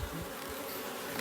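Honey bees at an opened hive give a short burst of dense, close buzzing, a continuous insect hum with no voices.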